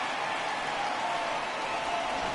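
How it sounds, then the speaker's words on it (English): Steady crowd applause and cheering fills a baseball stadium during a Blue Jays vs. White Sox game, a broad, continuous wash of clapping heard at a distance without a break. "this crowd, too, has been on and off with intensity"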